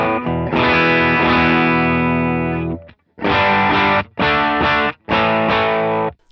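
Distorted electric guitar through a maxed-out effects pedal, one long sustained chord ringing for nearly three seconds, then three loud, punchy chord bursts with short gaps between, dense and saturated.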